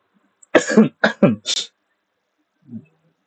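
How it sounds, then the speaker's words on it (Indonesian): A few sharp coughs in quick succession, close and fairly loud, followed by a short faint sound after a pause. "Maaf tadi saya batuk-batuk"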